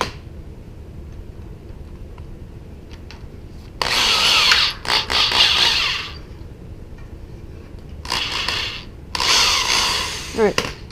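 A power drill drives screws into a Missy Trap gate in several loud, close bursts, one long run and then two shorter ones, separated by quiet pauses.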